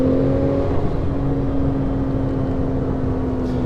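A tuned 660 hp Porsche 911 Turbo S on overboost pulls with a steady, droning engine note and a constant whir, heard from inside the car without any break in the sound.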